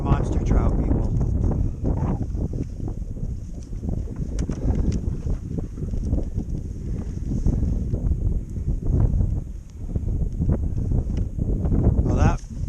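Strong wind buffets the microphone in a steady, loud rush while fishing from a Hobie kayak on open water, with brief thumps and gusts throughout and someone talking over it.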